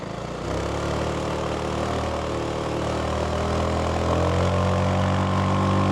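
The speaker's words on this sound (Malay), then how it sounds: "Dengar exhaust note pun yang standard pun dah best." A Zontes 368G motorcycle with a stock exhaust rumbles steadily with a deep exhaust note, its pitch rising slightly as it revs toward the end.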